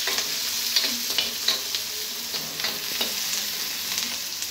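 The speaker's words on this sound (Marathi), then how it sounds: "मोहरी टाकल्यानंतर कांदा, हिरवी मिरची आणि कढीपत्ता एकदाच टाकते मी। याला मी परतून घेते।" Onion, green chili and curry leaves sauté with mustard seeds in hot oil, giving a steady sizzle broken by scraping stirs and small pops, close and continuous.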